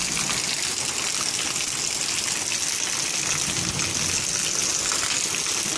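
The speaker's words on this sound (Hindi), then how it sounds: "अब ये बार से सब हो रही है, छत से आ रहा सारा पानी।" Rainwater pours steadily through a leaking roof onto straw stored below, a dense, continuous rushing and splashing that stays loud and even throughout with no talk.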